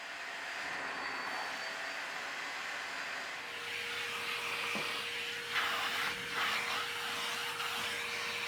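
A carpet extractor pulls water from car floor mats, a steady close whine and rushing suction that holds throughout, with a rising tone partway through and brief gurgling surges near the end.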